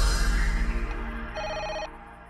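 A telephone rings in a Malayalam film scene, a brief pulsing electronic ring heard over loud rumbling background noise.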